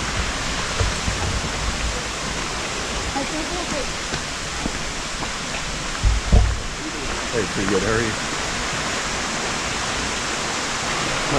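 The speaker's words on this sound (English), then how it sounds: "Not sure if that's a waterfall or not." Steady broadband rush of a waterfall along the Triple Falls trail fills the background, continuous and fairly close, with a brief burst of speech and a thud partway through.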